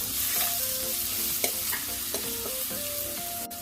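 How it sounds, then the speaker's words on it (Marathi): Chili, coriander and garlic masala paste roasting in a pan, with a steady close frying sizzle and stirring scrapes throughout, plus a few brief clinks, no talk. "मसाला आपण भाजून घेणार आहोत।"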